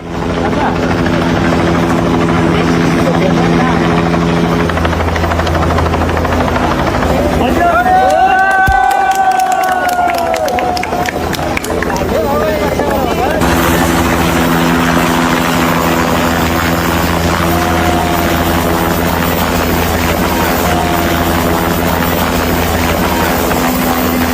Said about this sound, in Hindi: हेलीकॉप्टर पहुंचा रेस्क्यू के लिए।